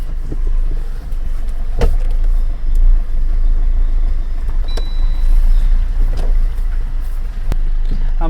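A car being driven out of a house's tight parking spot, a steady low engine rumble close by with a few clicks and bumps as it moves.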